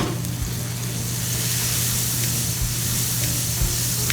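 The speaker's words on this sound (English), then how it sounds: "So, okay, so we're gonna fry up the tortillas." Tortillas fry in a very hot pan, a loud, steady close sizzle and hiss that holds without break throughout.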